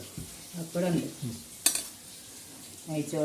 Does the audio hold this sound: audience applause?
no